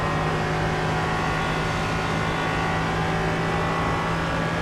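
An LMP3 race car in the sim racer iRacing drones at steady high revs, a loud, unbroken engine tone with dense harmonics and no pauses or shifts.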